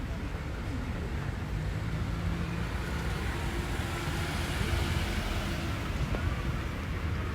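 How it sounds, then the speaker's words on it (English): A car rolls past on a suburban street in Mount Waverley during an outdoor house auction, a steady broadband road rumble with wind that holds through the whole stretch, fairly close and continuous. "I'll just wait for that car"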